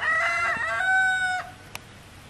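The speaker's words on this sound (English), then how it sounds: "Your chickens are wondering what you're doing, Alexa." A rooster crows loudly and close by, a long drawn-out call that trails off, followed by a single short cluck.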